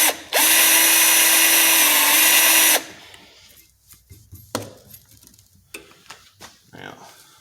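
A handheld power drill, used freehand without a drill press on a Winchester Model 120 12-gauge shotgun part, whines loudly at steady speed for about two seconds, then stops, followed by scattered clicks and light knocks from handling.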